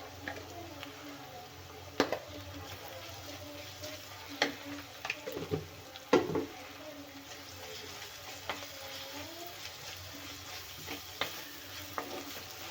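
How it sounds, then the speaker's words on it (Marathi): Ginger-garlic paste fries in oil with golden onions in a clay pot for egg curry. A soft, low sizzle runs throughout, broken by scattered clicks and scrapes of a spoon stirring. "आलं आणि लसूण पण भाजून घ्यायचं तेलामध्ये"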